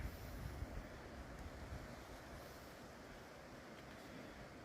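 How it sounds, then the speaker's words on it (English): A river flows in a valley below tall mountains in Vermont, heard as a steady, broad rushing wash with no breaks, distant and fairly faint, mixed with some wind noise. "Sounds like a nice river down there too. Yeah, I can hear it."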